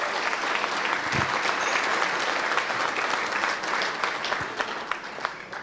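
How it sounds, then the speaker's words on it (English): Audience at a rugby legends event giving a sustained round of applause, a dense steady wash of many hands clapping from a large crowd, continuing without a break. "Give them another round of applause."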